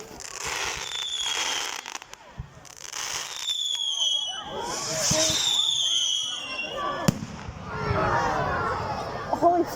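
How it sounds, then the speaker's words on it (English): Loud fireworks at a Bonfire Night display: booming bursts and crackling showers go off in quick succession, some whistling upward, with crowd chatter and voices mixed underneath. "What's the loudest fireworks you can ever get?"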